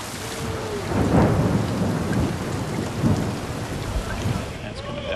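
Heavy torrential rain pours steadily outdoors at a football training camp, with rumbles of thunder rolling through the downpour for the whole stretch; no talk is heard.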